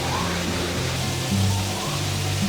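A waterfall near the Tree of Life at Disney's Animal Kingdom rushes in a steady, even wash of falling water, close and continuous with no break.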